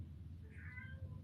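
A pet cat meows insistently at a door, wanting to be let in: a drawn-out mid-pitched meow, moderately close, over a low steady room hum with no talking.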